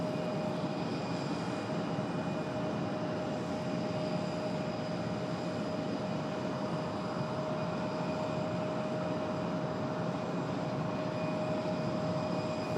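A FedEx cargo plane taxis at Raleigh-Durham airport in the evening, its jet engines holding a loud, continuous whining drone throughout.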